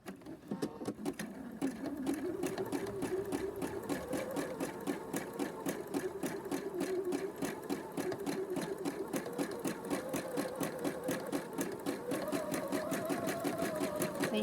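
A sewing machine stitching free motion embroidery runs at a rapid, even stitch rhythm, close and continuous, its motor whine rising and falling slightly as speed changes.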